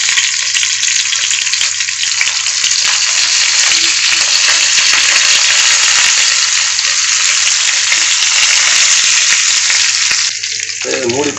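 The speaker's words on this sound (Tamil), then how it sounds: "அந்த கட் பண்ணி இருக்கிற கத்திரிக்காயை சேர்த்து வதக்கிடலாம்." Cut brinjal (eggplant) sautés in oil in a pan, giving a loud, continuous sizzle and crackle close up that runs steadily for about ten seconds before easing off near the end.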